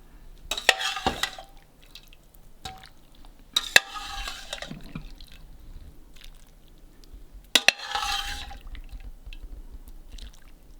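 Thai clear shrimp soup, tom yum goong, is ladled into a bowl, with a few close splashes, pours and clinks of the ladle separated by quiet gaps.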